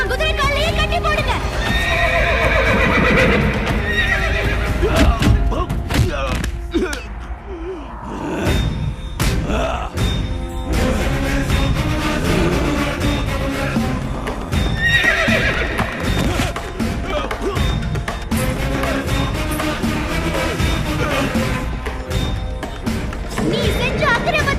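A horse neighs and whinnies loudly as its hooves clip-clop, in a dense, busy mix with voices and other commotion throughout.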